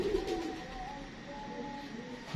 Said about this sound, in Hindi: बड़ा अच्छा कबूतर